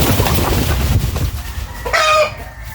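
Hungry chickens cluck loudly and close up in a busy, overlapping chatter, and a short rooster-like call rises near the end.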